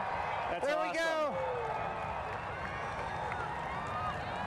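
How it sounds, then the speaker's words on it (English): A crowd of about 10,000 fans at Saluki Stadium during the 2024 total solar eclipse, with a burst of high whoops and cheers early on over a steady crowd roar, while someone talks over it. "You hear the crowd. Everybody's excited."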